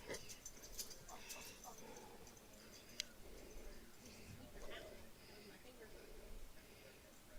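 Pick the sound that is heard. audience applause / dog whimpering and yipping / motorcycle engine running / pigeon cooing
dog whimpering and yipping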